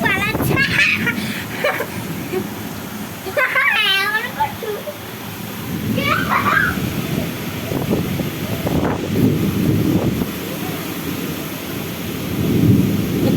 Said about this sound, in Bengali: এই দেখো প্রচন্ড ঝড় বৃষ্টি হচ্ছে